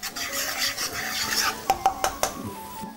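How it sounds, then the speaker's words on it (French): A fork stirs garlic around a pan, giving quick metallic scrapes and clinks over a soft sizzle, with a few sharper taps toward the end, close and fairly quiet. "On va bien remuer avec une fourchette."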